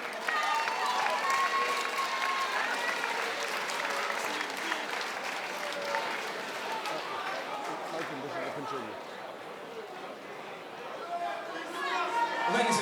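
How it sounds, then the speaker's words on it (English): A boxing-night crowd at a British Masters title bout cheers and claps steadily for the main event fighters, with loud chatter and shouting mixed into a dense, sustained roar throughout. "give a huge round of applause to our main event contestants this evening"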